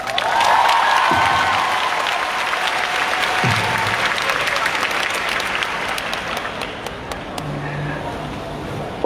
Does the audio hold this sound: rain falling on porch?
no